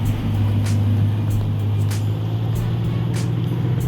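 A new Ram TRX pickup truck on custom wheels drives with a loud, steady low engine drone and road rumble, continuous and close with no talk.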